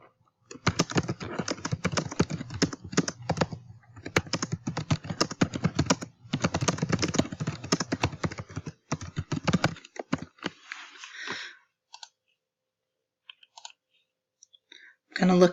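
Fast keyboard typing and mouse clicks on a computer as a comment is written on student work, a dense run of clicks for about ten seconds, then sparse isolated clicks with quiet gaps.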